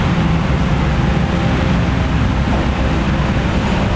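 A rotary car polishing machine runs steadily through body paint correction, giving a continuous low droning whir with broadband hiss that holds even and fairly loud throughout, with no speech over it.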